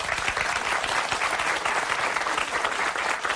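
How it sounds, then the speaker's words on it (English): An audience applauds in a steady, dense wash of clapping that holds evenly throughout, with a faint murmur of voices beneath. "will you give a very big hand of applause for Nicole"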